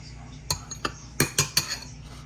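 A utensil stirring sushi rice in a bowl gives a few sharp clinks and taps against the dish, spaced unevenly over quiet background, close up with no voices.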